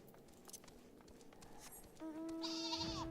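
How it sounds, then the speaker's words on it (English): Sheep in Final Fantasy XIV bleating once, a clear sustained nasal cry with a strong tone, faint at first and then loud over quiet game ambience and soft steps. "Sheep."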